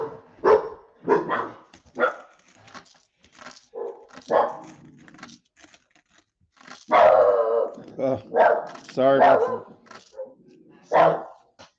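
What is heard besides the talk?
dog barking at neighbour's dog at the fence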